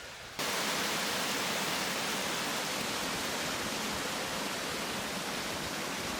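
Fast-flowing river water pours over a weir, a loud, dense, unbroken rush that starts abruptly and holds steady throughout, with no voices.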